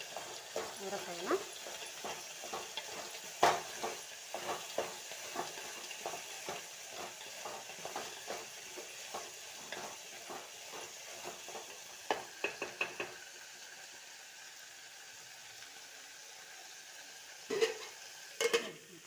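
Field beans (avarekai) with curry leaves fry quietly in a pan, a soft steady sizzle punctuated by frequent spoon scrapes and knocks against the pot, with occasional speech nearby.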